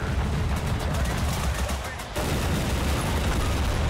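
A shooting vehicle fires in Total Conflict Resistance, a continuous rattling barrage of gunfire that dips briefly midway and resumes, loud and dense over game noise.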